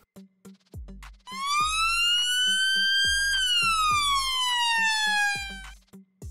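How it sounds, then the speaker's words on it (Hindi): A police siren in wail mode wails, sweeping up to a high pitch and then slowly sliding back down, with sharp ticking clicks before and after. "ये सायरन भी ऊंची और धीमी आवाज़ निकालता है"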